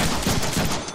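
Loud burst of rapid gunfire from the Deadpool video game, several shots fired in quick succession, close and dense, with no talking.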